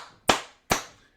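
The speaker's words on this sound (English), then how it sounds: "If I clap my hands," Two sharp, close hand claps about half a second apart, each ringing briefly before silence.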